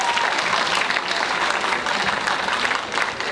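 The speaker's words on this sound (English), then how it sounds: "So please give them a hand clap right now for their effort." A school audience at Port St. Lucie High School claps for teachers and school board members in a steady, dense round of applause that holds at an even level from start to finish, with no voices over it.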